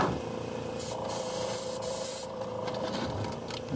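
Airbrush spraying a homemade thinner and cleaner mix, a steady close hiss of air and atomized liquid running continuously with brief pulses of brighter spray, no talking.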